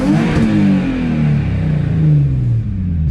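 Nissan 350Z/G35 engine revving hard on launch, a loud close exhaust roar with pitch rising and dipping as it accelerates.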